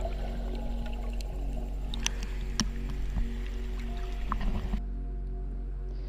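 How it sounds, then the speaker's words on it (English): Underwater bubbling as waves crash against rock off the Algarve coast near Praia das Furnas and Zavial, heard below the surface as a low steady rumble with scattered clicks and soft liquid pops, fading quieter near the end. "when it crashes against the rock you have all this bubbling underneath"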